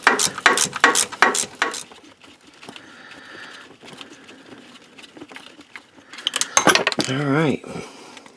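Metal tool clicks and ratcheting clatter sound close by as a bolt comes out of the transfer case encoder motor on a 4WD S10 Blazer, in bursts separated by quieter fiddling.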